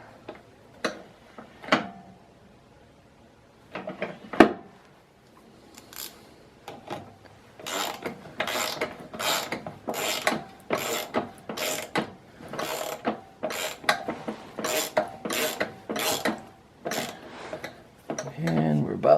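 A ratchet tightens a part on a Craftsman snowblower gear shift: a fast, steady run of crisp, close clicks, after a few scattered knocks and taps at the start.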